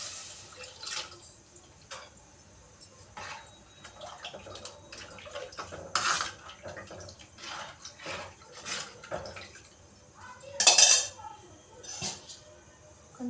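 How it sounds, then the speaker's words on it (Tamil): Dissolved tamarind water is poured into a pan of sautéed tomatoes for a fish curry, giving short splashing bursts with light clinks against the pan, one louder splash near the end, and a voice speaking at times. "அப்புறம் புளி கரைச்சி வச்சுருக்கேன், அதை ஊற்றுறேன் இப்போது."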